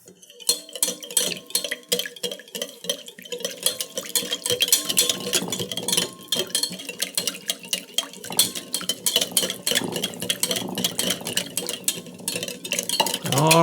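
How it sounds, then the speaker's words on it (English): Olive oil whisked into a dill vinaigrette in a bowl, a rapid, continuous metallic clinking and scraping of whisk against the sides that runs steadily throughout, close and fairly loud. "I'm going to add this in a slow, steady stream while I whisk it, and that's going to get it to emulsify and come together."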